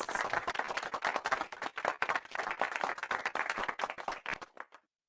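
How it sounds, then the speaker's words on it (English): An audience at a regional engineering conference claps to welcome a speaker, with dense, lively hand claps close by that hold steady for several seconds before tapering off to silence. "Let's give him a round of applause."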